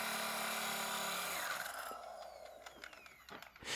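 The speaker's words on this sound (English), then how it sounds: "The drill cuts through the stone, and the water hisses as if bringing the process to life." A drill cutting through stone with water, a loud grinding whine that winds down after a second and a half into scraping, hissing and small knocks, fairly close, with no talking.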